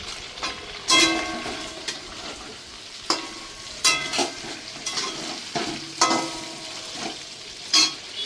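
Whole spices (green cardamom, cinnamon and cloves) crackle in hot oil over fried chicken in a kadai. Stirring scrapes the pan in bursts, with about a dozen irregular clattering strokes over steady faint sizzling.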